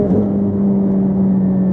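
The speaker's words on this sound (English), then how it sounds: "All right, here's 0 to 60, no launch control." A car launches from 0 to 60 without launch control on super lightweight wheels and performance tires, its engine a loud, steady close-up roar as it accelerates with no talk.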